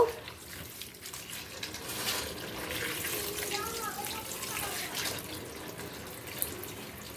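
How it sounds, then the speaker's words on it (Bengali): Tap water running steadily over okra being washed in a sink, a continuous close splashing hiss with slight shifts as the pods are handled. "ভেন্ডিগুলো সুন্দর করে ধুয়ে নিব ধুয়ে তারপরে কাটবো"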